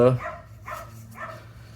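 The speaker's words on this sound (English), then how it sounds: "Sorry about the dog in the background." A dog barks three times in quick succession, close and fairly loud.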